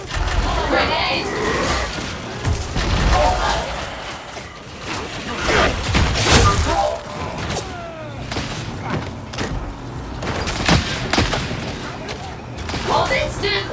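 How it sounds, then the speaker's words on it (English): Grenade blast and bursts of gunfire in the video game Darktide, with repeated thuds and rattling shots throughout, mixed under frequent speech and in-game voices. "Grenade!"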